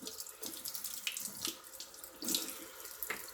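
Crystals such as fluorite, agate and citrine are rinsed under a running kitchen tap, with water splashing unevenly over the stones in close bursts and no talking.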